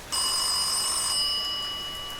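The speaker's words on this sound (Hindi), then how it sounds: "आधी रात को अचानक फोन बजने लगा। ट्रिन ट्रिन।" A telephone rings once in the middle of the night with a bright, sustained electronic tone that holds for about a second and then fades slowly.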